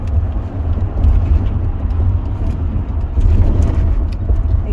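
Inside a moving U-Haul truck headed for New York, the engine and road drone form a constant, loud low rumble that fills the whole stretch, with no voices standing out.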